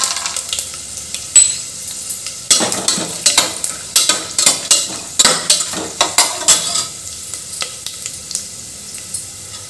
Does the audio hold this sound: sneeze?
no